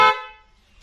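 A car horn wired through a relay gives one short, loud, blaring blast that cuts off quickly and leaves near-silence.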